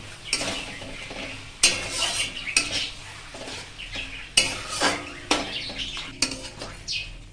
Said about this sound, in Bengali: মাংসটা কষে নিই।